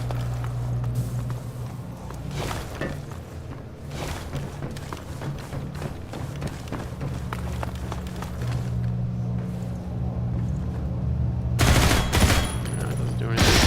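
Gunfire in Half-Life 2 aimed at a force field, a steady run of sharp shots under a constant low electrical hum, with a louder burst of impacts near the end and some talk mixed in.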